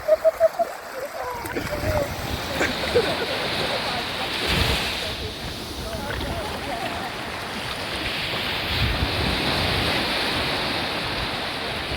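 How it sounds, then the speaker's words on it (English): Sea waves on the Isle of Iona wash over a paddler's legs in the shallows, making a close, continuous splashing surge that swells and recedes. A brief voice sounds at the start. "Look out for the wave that came to surprise me."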